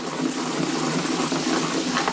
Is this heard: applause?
no